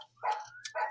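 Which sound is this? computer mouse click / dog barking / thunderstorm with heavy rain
dog barking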